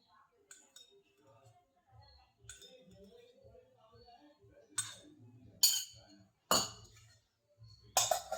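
A spoon clinks against a bowl while dhokla batter is mixed with oil, light scattered taps growing into several sharper, louder clinks, with a voice faintly in the background.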